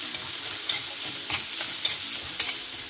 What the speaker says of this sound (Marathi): कांद्याला छान असा गोल्डन रंग येईपर्यंत भाजून घ्यायचा आहे कांदा